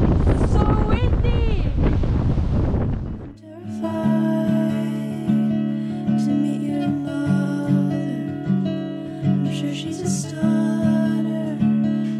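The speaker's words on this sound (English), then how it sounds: "It was also, as I think I said about a million times, incredibly windy up there." Strong wind gusts across a hilltop at Rocca Maggiore in Assisi, a loud rushing and buffeting that follows a few seconds of talk and swells and eases in repeated waves.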